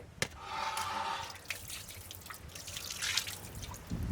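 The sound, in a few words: lime juice being added while cooking goat mutton biryani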